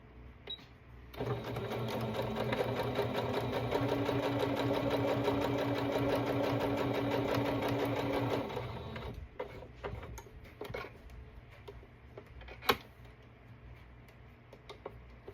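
A sewing machine runs a straight stitch through fabric, a dense, even mechanical whir for about seven seconds, followed by quieter clicks and handling noises with one sharp tap.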